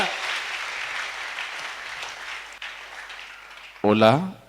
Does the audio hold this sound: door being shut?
no